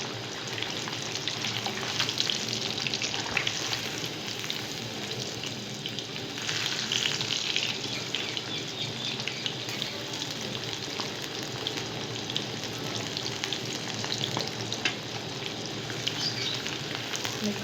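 Masala-coated fish fries in hot oil, a dense, continuous sizzle that holds steady and fairly loud from start to finish, with no voices.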